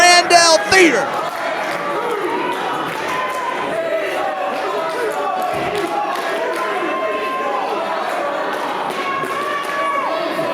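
A wrestling crowd in the historic Grandel Theater roars and chants in a dense, continuous wall of cheering, with a few thuds and a commentator talking over the noise.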